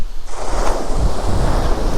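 Strong wind buffets the microphone while fishing, in loud, continuous gusts, with a low rumble and a broad hiss that sounds like surf close by.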